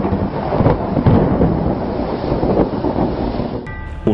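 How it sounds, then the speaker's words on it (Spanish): Thunder rumbles through a storm, deep and rolling, with loud broad surges rising and settling over several seconds and a brief higher tone entering at the end. "se oyó como un estruendo de truenos y los cielos se encendieron con los rayos"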